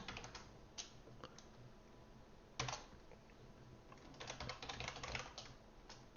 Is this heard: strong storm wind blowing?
no